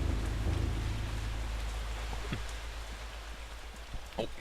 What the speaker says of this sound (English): Sounds as though it's raining, and it is thundering and lightning.